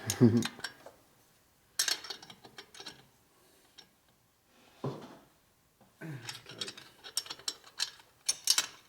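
Ratcheting clicks from a double box wrench tightening the cam tensioner bolt on a 2004 Harley FLHT 88 Twin Cam touring bike, coming in bursts of rapid metallic pawl ticks separated by pauses, close up in a quiet shop.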